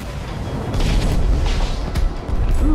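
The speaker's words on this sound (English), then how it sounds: "Ooh, fireworks!" Fireworks exploding in the Minecraft Story Mode video game, a dense run of deep booms and crackling bursts rolling continuously, loud and close, with game music or effects layered underneath.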